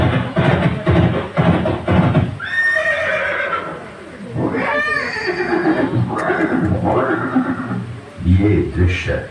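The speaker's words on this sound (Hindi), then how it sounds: "ये दृश्य महाराणा प्रताप और सुविख्यात स्वामी भक्त घोड़े चेतक के अंतिम मिलन का है" A warhorse of Maharana Pratap neighs and whinnies several times in a dramatized scene, with loud, shrill calls rising and falling while a voice speaks over and between them.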